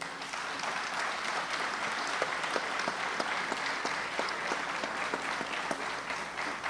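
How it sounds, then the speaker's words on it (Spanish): Steady, loud audience applause at a national assembly panel of congresspeople, dense clapping sustained throughout with a few sharper individual claps standing out. "Un fuerte aplauso."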